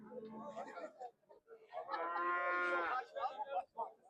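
Cattle low at a livestock market in Kars, Turkey, with several long, loud moos close by, one drawn out in the middle, and faint murmuring from people around.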